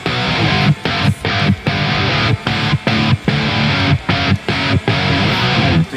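Electric rhythm guitar playing a pre-chorus with a changed strumming rhythm, loud and dense with distorted chords, broken by several short gaps where the strums stop.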